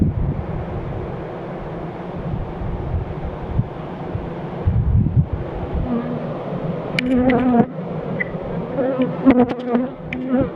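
A dense, steady buzz of many bees close by at an abandoned apiary hive that has lost its queen, with some wind rumble, and a few sharper nearby buzzes toward the end.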